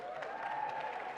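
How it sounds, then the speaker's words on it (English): Brief, fairly faint crowd applause for a speaker at a New York political event on reproductive rights, even clapping with a steady tonal hum running beneath it. "Let's give a round of applause to Majority Leader Andrea Stewart-Cousins."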